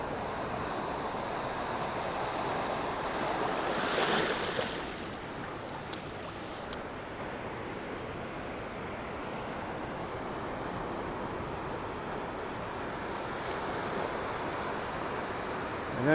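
Steady rushing surf washes up a beach continuously, with a brief louder swell partway through and wind buffeting the microphone.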